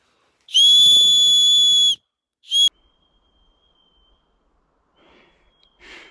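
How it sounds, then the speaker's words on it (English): A shrill, piercing survival whistle from a paracord bracelet, blown at a distance, sounds in one long blast, then a short second blast, followed by near silence with faint distant rustling. "we'll see if the whistle's loud enough that it can pick it up with the camera audio"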